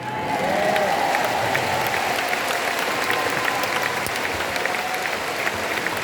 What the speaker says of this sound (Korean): 이런 박수를 좀 세게 쳐봐요.